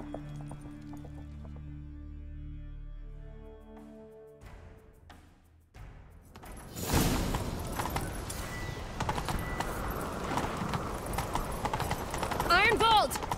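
A horse's hooves clatter rhythmically while galloping in The Witcher 3: Wild Hunt. The hoofbeats follow a quieter stretch of tonal game sound and continue loud and close to the end.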